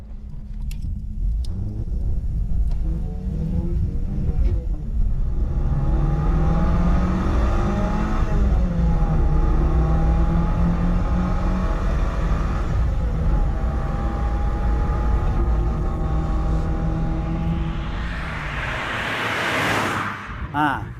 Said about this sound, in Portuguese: O que vamos fazer agora é liberar toda a potência dos 48 cavalos do Alto Bianchi, que na verdade é um motor Fiat.